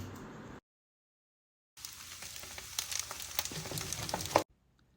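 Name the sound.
eggs being stirred into frying kimchi rice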